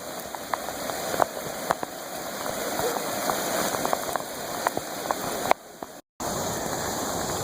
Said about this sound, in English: the rain has subsided a little bit